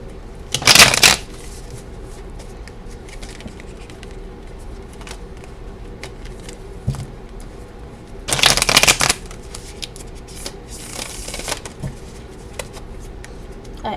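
Tarot cards being shuffled in two brisk, riffling bursts, one near the start and a longer one later, each a close, crisp flurry with quiet room tone between.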